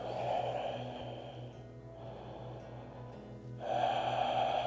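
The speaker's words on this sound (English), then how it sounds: "Nice deep breaths." Deep breathing during an exercise workout: slow, loud inhales and exhales through the mouth, two strong breaths framing a quieter stretch, up close and alone.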